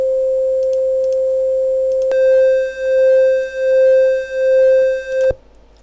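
A steady pure sine tone hums alone, then a buzzier triangle-wave tone joins and the two beat together in a slow, regular wavering pulse before cutting off, in a chiptune tracker.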